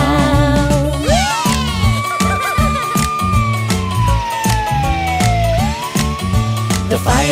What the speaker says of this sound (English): The fire truck siren goes wee-o, wee-o, wee-o.